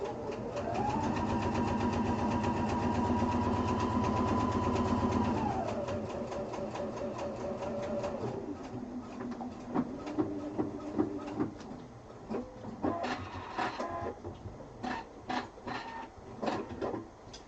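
A sewing machine stitches a quilted duffel bag. Its motor whirs in a long, steady run that shifts pitch and then slows, and ends in a series of close, uneven clicking and tapping bursts, with no talk.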